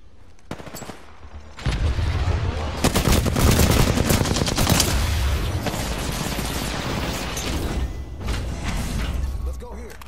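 Video game gunfire in rapid automatic bursts, loud and close with some shot cracks, overlapping with players talking.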